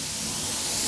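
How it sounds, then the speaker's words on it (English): An Iwata airbrush spraying paint during a motorcycle restoration gives a steady, close, continuous hiss of air and atomized paint with no break, alone and without talk. "I start the airbrush off the part"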